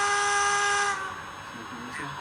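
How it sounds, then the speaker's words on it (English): An MTH HO scale C&O Allegheny model steam locomotive sounds its whistle, a loud, tonal multi-chime blast lasting about a second, then low hiss and faint voices as it fades. "So this model is the pre-smoking whistle."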